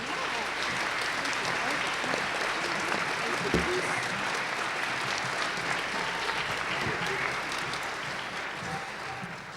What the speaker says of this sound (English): We appreciate all of your applause